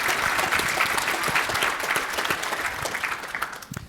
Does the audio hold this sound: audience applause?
yes